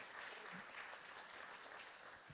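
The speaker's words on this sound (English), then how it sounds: "How about one more round of applause for our all-star" Audience applause at an evening college recruiting information night at a school, a steady, even wash of clapping that fills the whole short stretch at moderate distance, with no voices over it.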